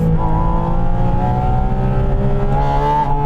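Four-litre sports car engine revving hard toward high rpm, a loud, steady, rising mechanical howl heard from inside the car with no pauses.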